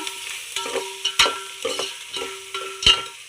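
A spoon stirs vegetable pulao in a pan with salt, making repeated scraping strokes against the metal over a soft sizzle, with a faint steady tone running underneath.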